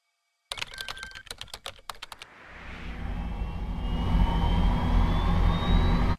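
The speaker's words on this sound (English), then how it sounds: "we've got our fusion generator powering up" A sci-fi fusion generator powering up: rapid clicking and tapping gives way to a low rumbling drone that swells steadily louder while a thin whine slowly climbs in pitch, ending abruptly.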